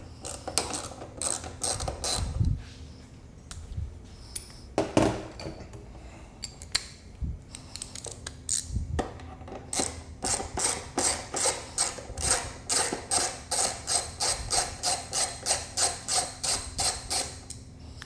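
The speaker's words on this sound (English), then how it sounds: "little Allen bolts are 5mm. This is what I'm using on a ratchet." A ratchet clicks as it turns 5 mm Allen bolts on a Honda CBR650R during frame slider installation, with irregular bursts of clicking early on, then a steady, close run of rapid rhythmic ratcheting strokes.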